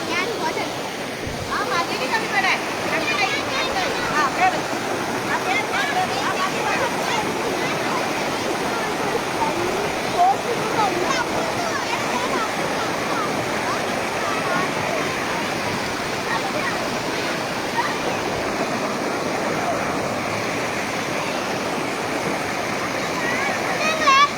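Water rushing over a small dam on a stream, a steady broadband roar close by that runs throughout, with occasional splashes and people talking underneath.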